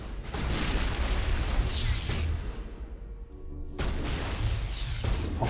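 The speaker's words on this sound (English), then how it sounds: "That's right, I have grenades." Booming grenade blasts from the sci-fi shooter Mass Effect crash through a dense wall of gunfire and whooshing combat noise, loud and continuous, with a brief lull midway before the chaos resumes.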